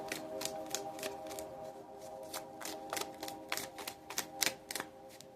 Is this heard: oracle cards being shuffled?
yes